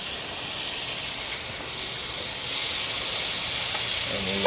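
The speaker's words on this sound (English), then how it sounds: "Oh, the sizzle still." Fish fillet sizzling in hot bacon grease in a pan, a steady, dense hiss that holds level and close for the whole stretch, with faint pops near the end.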